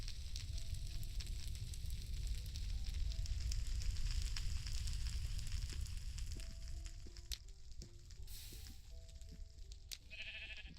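Steady hiss and crackle of a fire burning in Minecraft, with black smoke rising, filling the scene; a few short sheep bleats join toward the end, and no one speaks.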